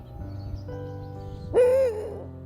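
A Eurasian eagle-owl mother hoots to call her young. A low, steady tonal call is followed by a louder, drawn-out hoot, close and clear in a quiet outdoor setting.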